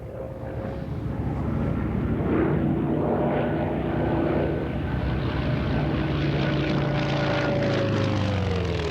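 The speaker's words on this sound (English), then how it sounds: "flying the FM-2, the leader of Warplanes International, Dick Foote." WWII warplanes, among them an FM-2 Wildcat, a Zero and a Kate, drone overhead at a 1985 Pratt & Whitney anniversary airshow, a rising and falling piston-engine roar that passes from moderate distance with pitch sliding down.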